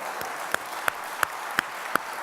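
Audience applause for the men in a workplace gathering, a steady wash of many hands clapping with a few sharper claps standing out at regular intervals, moderately loud and alone.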